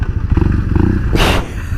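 A BMW R 1200 C motorcycle engine idles up close with a deep, throbbing low growl, then a brief rush of louder noise breaks in before the rumble settles again.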